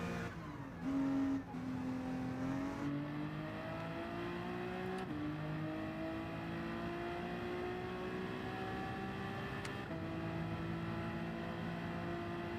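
A Honda NSX engine in Gran Turismo 7 drones steadily, its pitch slowly climbing through long pulls with a few quick shifts, heard close and continuous from onboard the car.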